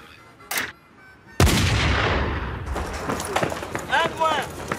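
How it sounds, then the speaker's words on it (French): Gunfire erupts in a tense French crime drama scene, a sharp loud blast followed by sustained rumbling noise and further bursts, with people shouting and talking around it. "Qui a tiré? Merde, qui a tiré?"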